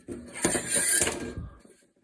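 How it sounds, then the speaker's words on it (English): Brief mechanical scraping and clicking as a screw drives a recoil pad back onto a shotgun stock, a close, dense burst of about a second and a half that then stops. "Right, screwing back the recoil pad back on."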